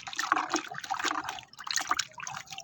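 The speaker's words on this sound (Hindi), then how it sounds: "ये वाला लिक्विड हमने अब 5 लीटर पानी में ऐड कर लिया है। इसको अच्छी तरह से हिला लेंगे," Aloe vera liquid fertilizer stirred or shaken into five litres of water, giving close, busy sloshing and splashing in irregular surges that last a couple of seconds, with no talking.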